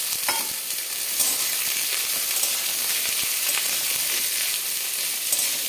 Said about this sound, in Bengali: অল্প হলুদ দিয়ে এটাকে ভাজবো।